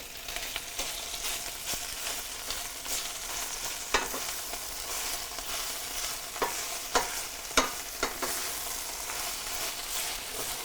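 Spinach, about 4 to 5 ounces, is stirred as it wilts in a hot pan with other ingredients, giving a steady close sizzle broken by occasional utensil scrapes and clicks, with no talking.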